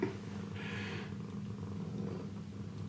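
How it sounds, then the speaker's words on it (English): A cat purrs while resting on someone's lap, a soft, low continuous rumble heard close up and fairly quiet, with a brief brighter rustle partway through. "that's her purring on Deputy Dewey's lap"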